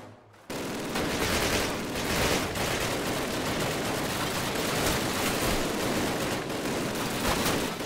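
Dense, sustained automatic gunfire from the Call of Duty video game, rapid bursts running almost without pause after a brief quiet start, loud and close with no voices.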